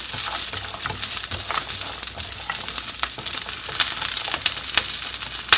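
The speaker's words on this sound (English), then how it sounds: "Fry them for a few minutes." Garlic sprouts frying in a hot pan with beef and bamboo shoots, a steady dense sizzle with crackling pops and occasional stirring scrapes throughout, loud and close with no talking.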